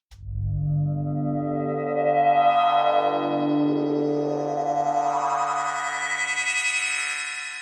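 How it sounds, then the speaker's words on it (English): A Serum synth patch from the Psyche Volume 2 preset pack, played with chorus switched off, sustains a single bright, harmonically rich tone that sweeps steadily upward in brightness over about seven seconds, clean and solo. "Here I have another example from Psyche Volume 2 for Serum, and it sounds like this without the chorus engaged."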